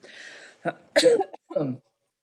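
A few short coughs and throat-clearing bursts at a board meeting, close to the listener, in quick succession and then silence.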